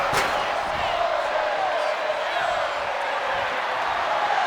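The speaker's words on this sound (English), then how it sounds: "the crowd's loving it" Arena crowd in the WWE 2K25 wrestling video game roars and cheers steadily throughout, a loud continuous wash of noise with a sharp impact near the start, as a returning wrestler hits the ring on a RAW broadcast.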